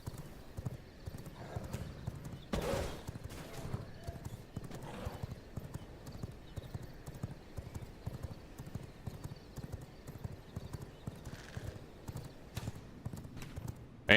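In the video game V Rising, a horse's hooves clip-clop at a steady trotting rhythm, quiet and somewhat distant, with a brief whinny early on and occasional faint neighs over soft background game sounds.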